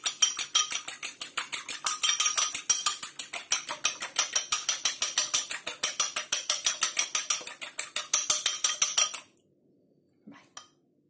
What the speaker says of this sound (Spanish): Ahora hemos cogido un huevo, lo vamos a batir.